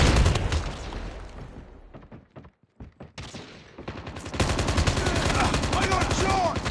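Gunfire in the mobile shooter Call of Duty Mobile: rapid bursts of shots crackle loudly, thin out into a brief lull, then return as dense sustained fire with game effects layered underneath.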